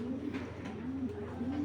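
Domestic racing pigeons coo softly in a low, repeated throaty rhythm, close by and fairly quiet, with no talking over them.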